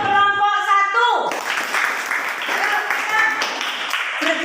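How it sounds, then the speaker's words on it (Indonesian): Classmates clap for the first group in a school classroom, a dense, steady patter of applause that swells in after a moment and carries on throughout, with voices mixed in. "Tapi sebelumnya kita kasih aplaus untuk kelompok 1."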